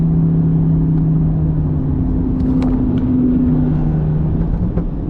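Volkswagen GTI accelerating hard in a race against V8 cars, a loud, close engine drone rising steadily in pitch for several seconds with a continuous rumble underneath.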